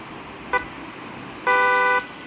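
A Mahindra Thar's horn sounds twice outdoors, first a very short toot and then a half-second blast, loud and nearby, with faint background noise between them.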